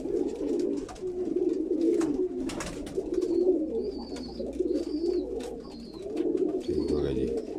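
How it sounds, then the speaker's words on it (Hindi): Soft, low cooing of a Zarcha pigeon rolls on steadily, with a few faint higher chirps overhead and some close handling noise as the bird is held. "ये दरचा कबूतर लेके आया हूँ"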